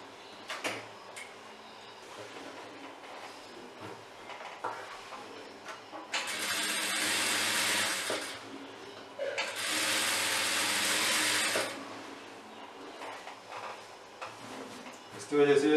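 A sewing machine stitches a seam on a three-panel kurti in two sustained, buzzing runs of a couple of seconds each, with someone talking before and between them.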